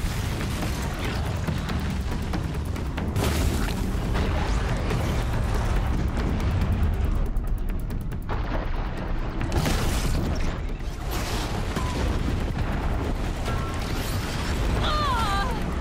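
A control tower blows up in Horizon Zero Dawn with deep booms and crashing bursts, along with mechanical clanking and ratcheting, over a dense, steady loud din.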